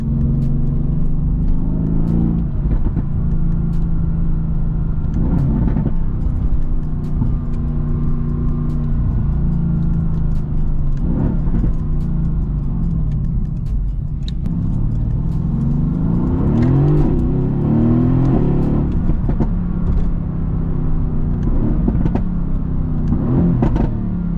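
Mercedes-AMG car engine driven in Sport Plus mode, loud and close throughout, rising and falling through repeated revs and quick gear shifts with a steady deep rumble underneath.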